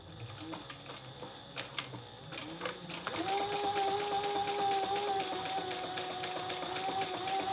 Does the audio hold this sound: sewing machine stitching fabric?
yes